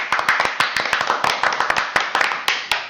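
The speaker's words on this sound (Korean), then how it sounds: "다시 한번 큰 박수 부탁드립니다" Brisk, close clapping from a small audience at a university real estate colloquium, sharp individual claps overlapping in an uneven rhythm throughout, thanking a professor after his special lecture on failed property auction cases.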